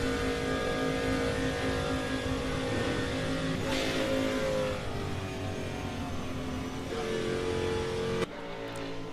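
Endurance race cars in a racing game through the Maison Blanche corners, a steady, loud engine drone with shifting pitch as the cars accelerate and brake, cutting off abruptly near the end.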